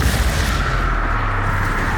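A Confringo spell explosion from the Hogwarts Legacy video game makes a dense, loud, continuous burst that roars and rumbles without a break for the whole two seconds.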